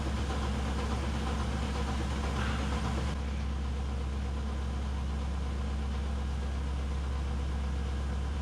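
A skid loader engine runs steadily on a cattle farm, a continuous low idling rumble with a constant hum and no break throughout.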